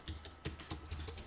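A search term is tapped out on a computer keyboard in a short burst of about six distinct key clicks, close and steady, with no talking.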